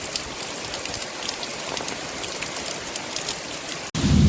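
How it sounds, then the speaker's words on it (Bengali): Heavy rain pours steadily onto surfaces in the Sundarbans, a dense close patter and hiss with no pauses, ending in a sudden louder rumble. "এত জোরে বৃষ্টি হচ্ছে"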